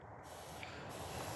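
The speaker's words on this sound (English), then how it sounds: "It's like a water pistol, you can put it on spray" A water-pistol style shower set to spray gives a steady, close, fairly loud hiss of fine water that runs unbroken throughout, with no voices.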